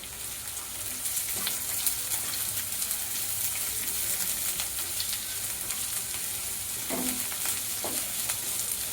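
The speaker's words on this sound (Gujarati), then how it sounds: "એક શિમલા મરચું કાપેલું એડ કરીશું પછી તેને સારી રીતે મિક્સ કરી લઈશું" Chopped capsicum and finely cut onion get stirred through a hot frying pan, making a continuous close sizzle broken by a few scraping knocks of the spoon against the pan.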